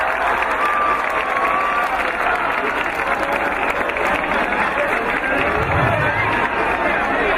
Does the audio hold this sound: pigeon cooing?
no